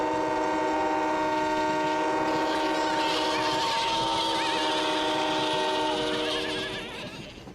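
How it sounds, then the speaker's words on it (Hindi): Cartoon trains sound their horns together in one long, loud, sustained blast, the chord of tones holding steady for several seconds before fading at the end. "इन भेड़ों को दूर भगा देते हैं अपने हॉर्न एक साथ बजाकर"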